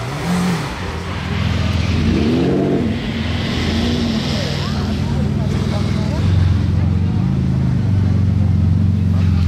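A yellow Lamborghini Aventador S Roadster idles with a deep, steady engine rumble, joined by other supercars, a brief rev and engines droning throughout, while someone talks over the noise.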